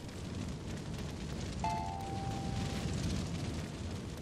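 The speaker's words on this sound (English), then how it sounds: "Everything is on fire over here." Fire roaring in the Deadpool video game, a steady dense crackling rush that stays loud and even throughout, with a brief thin tone sounding over it midway.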